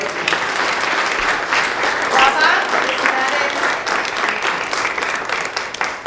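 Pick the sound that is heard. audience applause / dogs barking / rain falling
audience applause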